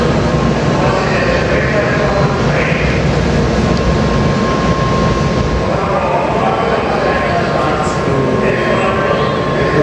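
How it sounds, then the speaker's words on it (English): A Shinkansen bullet train pulls into a station with a continuous loud rushing roar, under steady crowd noise and some talking. "Here comes the Shinkansen."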